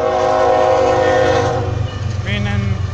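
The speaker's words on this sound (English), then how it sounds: "Being in Bnsf with 26 CSX locomotives with a grain train." A heavy BNSF grain train hauled partly by CSX locomotives rumbles past with a sustained horn blast that fades, followed by steady rolling rumble and a faint squeal of wheels, in winter with snow on the ground.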